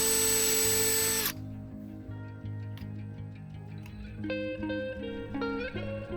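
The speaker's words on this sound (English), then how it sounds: "We pre-drilled the holes in the trailer wall with a small drill bit." A power drill with a small bit whirs loudly into a travel trailer wall, starting with a harsh grinding burst, then a steady motor whine that rises in pitch near the end.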